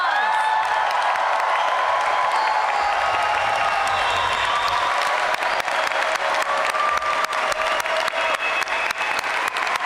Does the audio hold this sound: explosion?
no